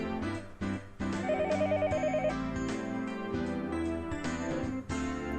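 A telephone rings in a Higurashi visual novel, a bright trilling ring set against loud layered music with sustained tones and abrupt cuts, no voices heard.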